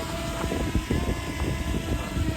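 A new drone hovers at the beach, its propellers giving a steady buzzing whir with wind-like rumble, fairly close and continuous without speech.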